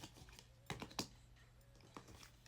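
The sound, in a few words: shuffling tarot cards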